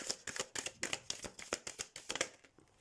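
Tarot cards being shuffled by hand in a quick rhythmic riffle, a steady run of crisp papery slaps and flutters, close and moderately loud, with no talking.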